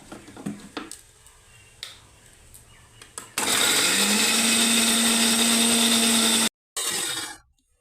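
An electric mixer grinder purees tomato into paste in a home kitchen: a few light clicks and knocks, then the motor roars loud and steady for several seconds, cuts off briefly, and whirs again before spinning down.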